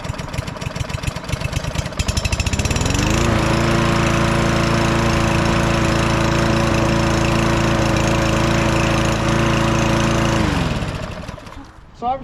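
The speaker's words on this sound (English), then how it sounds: "So obviously that's a little bit of a strange startup, but it runs great, and it started first pull." A small lawn mower engine fitted with a new spark plug sputters through an uneven start, then settles into a loud, steady running drone for several seconds before cutting off near the end.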